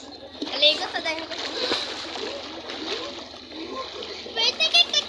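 Children splashing and playing in the sea while bathing on Easter Sunday, with repeated bursts of splashing water and kids talking and shouting throughout, close by and fairly loud.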